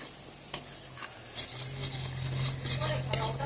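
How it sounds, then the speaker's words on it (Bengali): Spice paste with turmeric and salt sautéed in a pan for a kharkol-leaf and jackfruit-seed curry, a soft sizzle under scraping stirs and a couple of sharp utensil clinks, close and moderately quiet. "এখন মশলাটা ভালো করে কষিয়ে নেব"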